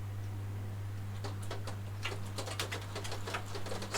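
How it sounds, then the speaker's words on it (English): Sudden rain starting outside an open window, heard as scattered irregular patters and ticks that grow denser over a steady low hum indoors. "Sudden rain."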